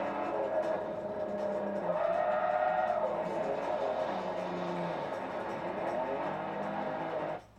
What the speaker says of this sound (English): the wall is there and it catches me every turn I take, every Honda I wreck.